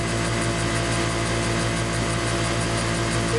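An asymmetrically modified DC motor runs at about 3,400 RPM, a loud, steady whirring hum with constant tone and no pauses, heard alone without talk.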